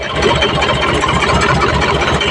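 A tractor engine runs steadily at close range, loud and continuous with a rough, even drone and no voices.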